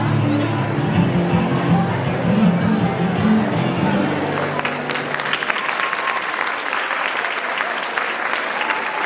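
Audience applause at a school annual function fills a large hall, a dense steady wash of many hands clapping with some crowd murmur, loud and continuous before thinning slightly toward the end.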